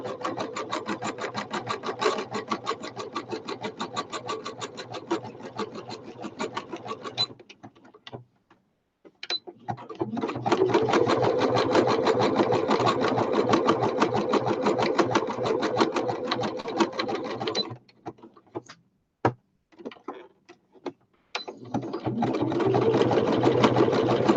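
A sewing machine stitches a fabric cover in close, rapid rhythmic clatter, running in long bursts with short pauses and brief stops between runs.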